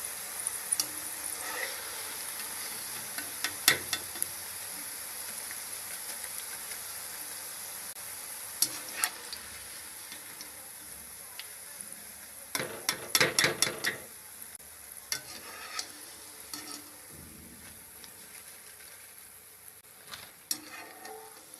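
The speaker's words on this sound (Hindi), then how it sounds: "माशाल्लाह हमारी गोभी बहुत ही ज़बरदस्त फ्राई हो रही है।" Cauliflower pieces frying in hot oil for Gobi Manchurian, a steady close sizzle with occasional clinks and scrapes of a utensil stirring in the pan.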